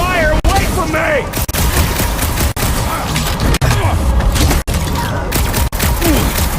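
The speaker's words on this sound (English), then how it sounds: "I hear way too much shooting!" Rapid gunfire and blasts rattle through a firefight in Marvel's Guardians of the Galaxy, loud and continuous, with sharp bursts and booms under voices shouting in the middle of combat.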